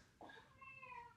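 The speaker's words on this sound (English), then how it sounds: "and that's the cat." A cat lets out a single clear meow lasting about a second, close and fairly loud, over a quiet room background.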